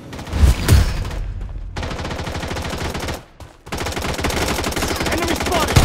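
Automatic gunfire from the mobile shooter Blood Strike rattles loudly in long continuous bursts, broken by a brief pause before firing resumes, with an announcer voice and game effects at the start.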